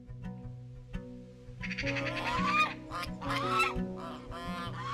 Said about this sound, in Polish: Głośne gęganie poniosło się po okolicy, kiedy na niebie pojawił się klucz od latających dzikich gęsi.